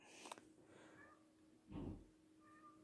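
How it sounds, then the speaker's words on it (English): A cat meows at a door, faint and somewhat distant, giving a few short calls spread across a quiet room. "There's a cat at my door."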